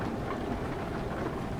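Rain drums steadily on a moving truck during a drive between Limoges and Clermont-Ferrand, a dense, even wash of patter under the low rumble of the cab, with no voices.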